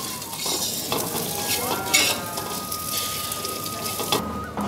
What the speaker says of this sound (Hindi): उसको ऐसे ही स्लो मीडियम फ्लेम में धीरे धीरे से अच्छा से रोस्ट करना है घी के साथ।